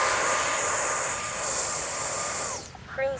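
An X-Fly SU-57 V2 RC jet flies past with a loud, steady turbine whine and rushing roar that holds for a couple of seconds, then drops away abruptly.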